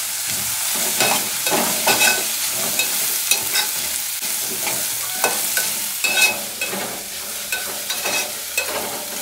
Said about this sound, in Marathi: कांदा चांगला परतून घेतला आपण.